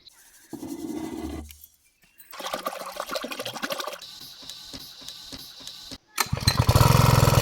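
A spraying machine's engine in a mango orchard sputters through several start attempts with pauses between, then catches and runs loud and rough at the end.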